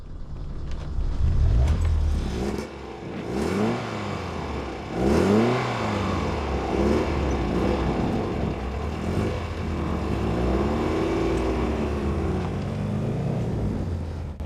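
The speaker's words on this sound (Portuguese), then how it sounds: "Esses motores duplo comando são motores pequenos e encantadores." A small Alfa Romeo Giulia 105 twin-cam engine pulls hard while driving, its rising and falling revs sweeping up through the gears, a loud throaty buzz heard from inside the car with no talk over it.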